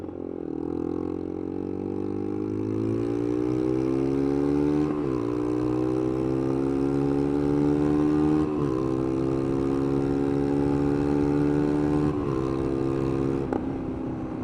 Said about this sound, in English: And that's what it sounds like using every single last little rev that it's got.